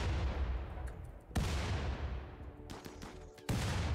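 A RimWorld battle with gunfire and grenades: a rumbling barrage of shots with two sharp, loud blasts standing out against continuous distant firing.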